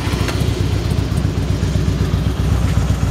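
A 2004 Harley-Davidson Softail Deuce V-twin motorcycle engine running after starting, a loud, steady low rumble with uneven throbbing pulses, close and continuous throughout with no talk.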